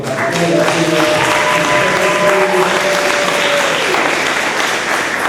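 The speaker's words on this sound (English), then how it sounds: "please give them a round of applause again" A concert audience claps steadily and loudly throughout, a dense, continuous wash of applause with a few faint tones underneath.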